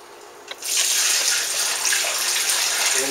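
Beer wort pours steadily from a brewing kettle into a primary fermenter, a loud continuous splashing gush that starts abruptly after a small knock and runs unbroken to the end.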